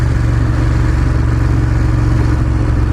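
A Ducati Monster 1200 S motorcycle engine runs in a loud, steady low rumble with a strong bass pulse and a hint of clatter, holding one even tone without voices for about three seconds.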